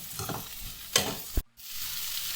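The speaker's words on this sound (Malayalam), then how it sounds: "ഇത് ഒന്ന് നല്ലപോലെ വഴറ്റണം" Tomatoes, brinjal and okra being sautéed in a pan for varutharacha sambar, a close sizzle with spoon stirs and a sharp scrape or knock before a brief pause, then steady frying resumes.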